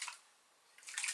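A mini mister sprays pearlized water in two short, soft hissing bursts separated by a quiet pause, close and faint.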